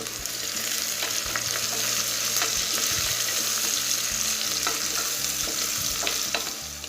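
Small onions and slit green chillies sauté in a pan for kuska, a plain biryani. A continuous close sizzle carries scattered scraping stir strokes, with no talking.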